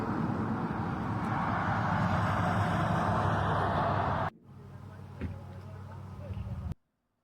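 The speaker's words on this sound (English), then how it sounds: "There's just cars just cruising by." Cars and trucks cruise along Alligator Alley, a continuous rolling road rumble that drops to a quieter drone before cutting off, with a voice heard nearby.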